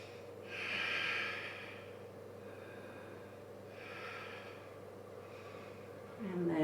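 During a vinyasa yoga class, someone takes slow, deep breaths: two long, soft, airy inhales or exhales about three seconds apart, then the start of a third, close and quiet over a low room hum.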